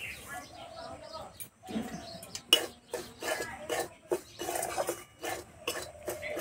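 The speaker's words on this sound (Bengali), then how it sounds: "এইভাবে একটু কিছুক্ষণ নেড়ে নেব যাতে সুজির কাঁচা গন্ধটা চলে যায়।" Semolina is dry-roasted and stirred in a wok, giving irregular close scraping and clinking strokes, while a person talks and birds chirp faintly in the background.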